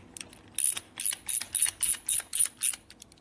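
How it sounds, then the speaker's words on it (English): A socket ratchet tightens a float bowl bolt on a 1967 Harley-Davidson 74ci Shovelhead FLH, giving about eight crisp, evenly spaced ratcheting clicks close up in a quiet space. "Always use a socket to tighten this with."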